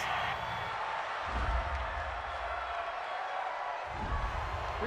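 A stadium crowd at an NFL game between the San Francisco 49ers and Arizona Cardinals reacts to a penalty call, a broad steady roar with swelling, disapproving surges from a distance.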